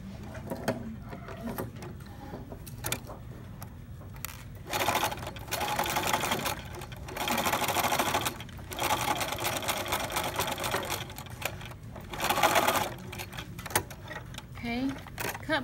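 A sewing machine stitching the last dart on a pencil pouch, close and steady, its mechanical whir running in repeated bursts with short pauses between.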